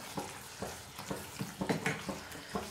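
Aloo gobi curry of potato and cauliflower being stirred in the pan after chopped coriander goes in: a faint, soft sizzle with a steady series of spoon scrapes and taps, and no talk.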